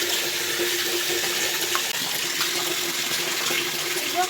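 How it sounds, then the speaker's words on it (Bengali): Tap water runs in a steady stream while raw chicken meat is washed under it, a close, continuous splashing rush with faint handling clinks. "আগে মাংসটা ধুবো"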